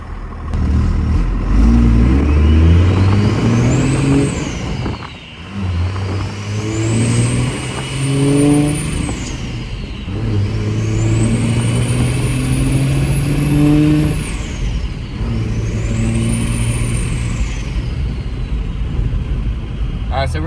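A tuned 2nd-gen Cummins diesel pickup truck revs up repeatedly, climbing in pitch then dropping with each gear shift, loud and close inside the cab, with a high whine rising alongside.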